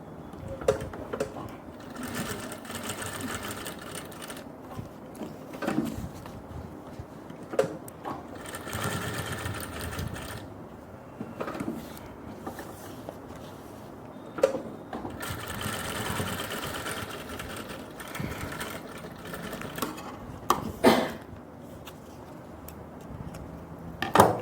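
A sewing machine stitches a pair of women's pants in steady bursts with short pauses, each run a close, rapid mechanical chatter separated by brief handling sounds.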